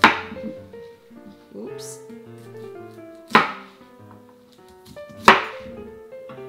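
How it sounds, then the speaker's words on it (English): A knife chops the stems and leafy tops off fresh beets on a cutting board: three sharp, well-spaced cuts over light background music, with one brief spoken word. "So what we're gonna do with our beets is just cut off the stem and leaves."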